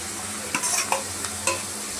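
Onion and tomato frying in a pan for aloo tikka masala, a soft continuous sizzle with a few sharp stirring scrapes, close by and fairly quiet, no voices.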